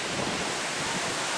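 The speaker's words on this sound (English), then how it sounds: "It's windy out there." Strong wind gusts outdoors at a rained-out festival, buffeting the microphone as a constant, loud roar with no voices over it.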